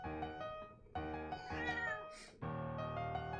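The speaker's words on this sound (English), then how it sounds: "The cat is here from the beginning now" A house cat meows repeatedly in a room, clear and close with no talk over it. The calls are drawn out and tonal, with short pauses between them.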